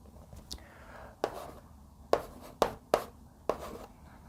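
Handwritten strokes during a calculus lecture on Green's reciprocity theorem, a few sharp pen or chalk taps and scratches spaced irregularly, close and fairly clear over a quiet room.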